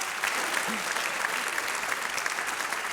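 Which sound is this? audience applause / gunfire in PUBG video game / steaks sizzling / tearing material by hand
audience applause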